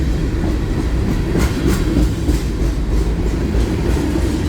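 Freight trains running back to back in Lapeer pass close by, with a steady, loud rumble and rhythmic clickety-clack of wheels over rail joints and no talking.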